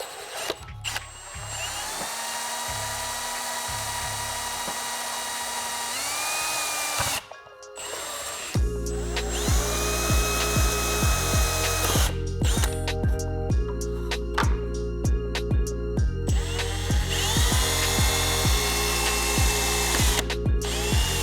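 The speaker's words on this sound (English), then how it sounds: "We're done drilling the holes" A power drill bores holes in a carbon fiber front lip on a 2022 Dodge Charger Hellcat SRT Widebody, close and loud, with bursts of whining motor and pitch shifts as the bit spins up and down, separated by brief pauses.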